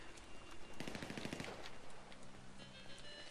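Automatic gunfire in GTA V Online, a dense, fast burst of shots in the middle of a noisy, faint game mix, with scattered rattling before and after.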